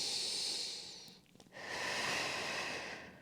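Slow, deep breathing during a standing Pilates stretch, a long airy exhale followed after a short pause by another breath, close and fairly quiet, with no voices.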